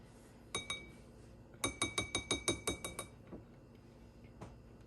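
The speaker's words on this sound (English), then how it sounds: "I'm gonna stir this a little bit just to get it out of the tablespoon." A tablespoon clinks against a glass holding pumpkin spice sauce, first a single tap, then a quick run of about eight bright, evenly spaced clinks, fading into a couple of softer taps afterward.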